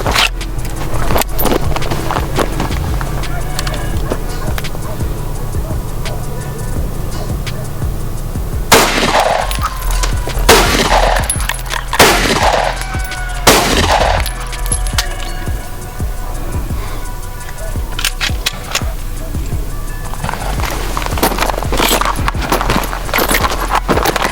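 Regular 9mm or AR-15 rounds are fired into pig meat outdoors, with several sharp, loud shots clustered in the middle over steady background rumble and scattered handling clatter.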